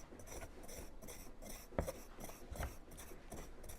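A knife scrapes and breaks up chunks of a baking ingredient for chocolate chip cookies, giving faint, close rasping strokes with a few small knocks, repeated in a quick uneven rhythm.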